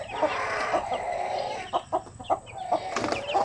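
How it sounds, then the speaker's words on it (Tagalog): A hen clucks repeatedly in short, agitated bursts during a scuffle with other chickens, close and fairly loud against a busy farmyard background. "Yung inahing manok na loko-loko."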